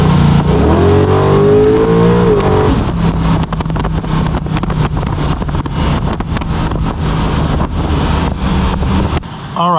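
Car engine fitted with a rebuilt Holley 4150 Brawler carburetor, running lean, revving up loudly and pulling away, with heavy wind buffeting over a sustained roar.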